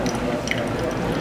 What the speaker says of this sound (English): start in the center and do a spiral pour so that you can cover all of your grounds